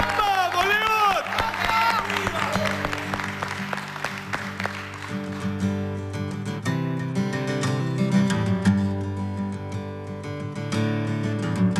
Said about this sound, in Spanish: Sí, sí, fuerte aplauso.